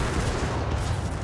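A British tank's main gun fires in a war scene, a dense, sustained roaring blast of low rumble and broadband noise that fills the whole short stretch.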